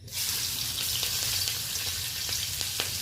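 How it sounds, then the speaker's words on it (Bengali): Half-torn green chillies hit hot oil for tempering, setting off a steady, fairly loud sizzle with small pops scattered through it, close up and with no talking. "4টা আধা ছেঁড়া কাঁচা লঙ্কা দিয়ে দিলাম।"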